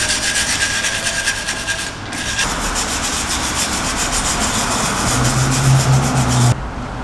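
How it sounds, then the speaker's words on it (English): A wire brush scrubs dirt off the differential of a Toyota 4Runner, a loud, continuous close-up rasping that breaks off briefly partway through and then resumes. "get a wire brush here and clean basically all around"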